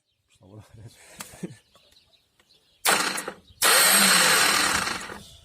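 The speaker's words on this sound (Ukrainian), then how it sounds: "І ставимо стартер, пробуємо. Будемо пробувати заводити." Starter cranking a YuMZ tractor engine, the starter fitted without removing the pony motor: two loud bursts of harsh whirring cranking, one brief and one sustained, following a stretch of quiet speech.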